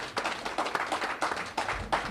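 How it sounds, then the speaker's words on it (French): Brief burst of audience applause at a results proclamation, scattered hand claps close by, uneven and short-lived. "Je voudrais d'abord qu'on applaudisse cette équipe de transition qui a fait un très bon boulot"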